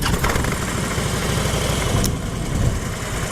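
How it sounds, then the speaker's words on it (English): A Harley-Davidson Switchback motorcycle with a rubber-mounted engine idles after a cold start, its low rumble steady, loud and close, with a continuous pulsing throb and no talk over it. "Nice beautiful cold start on a Harley Switchback."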